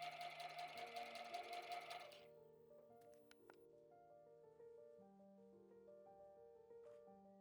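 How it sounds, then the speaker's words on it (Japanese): A sewing machine whirs in a fast, even burst for about two seconds, stitching the bag opening of a fabric shoulder bag, then stops, leaving quiet soft tones behind. "最初にカバン入れ口部分をミシンで縫います"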